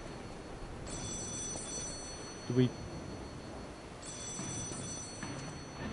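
Faint, thin ringing of a telephone in two spaced bursts under a low hum, with a brief spoken word in between.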